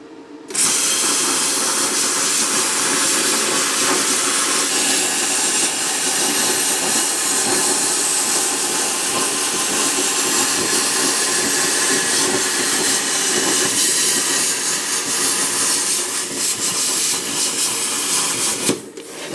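An R-Tech P32D plasma cutter slices a straight line along a fence guide through 3mm steel plate, giving a loud, unbroken roaring hiss that starts abruptly, holds steady for nearly twenty seconds and then cuts off.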